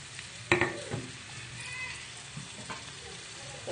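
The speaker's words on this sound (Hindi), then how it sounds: "इसको हम हल्का ब्राउन होने तक के अच्छे से भून लेंगे" Chopped onions frying in oil and butter in a pan over medium heat, a steady soft sizzle with a few louder clatters of stirring, close and alone without speech.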